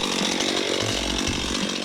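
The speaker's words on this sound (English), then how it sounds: "All right, Jenny, was that the first time you ever used a chainsaw?" A chainsaw cuts through wood during a first-time use while gathering firewood, its engine a loud, continuous buzzing whine with the pitch dipping briefly as the chain bites, close by and without talk.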